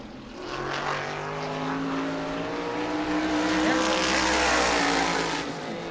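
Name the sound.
modified race car on a qualifying lap at New Smyrna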